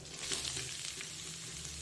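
Chicken sizzles and crackles steadily in a hot pan, close and fairly loud, with occasional scraping as it is moved around.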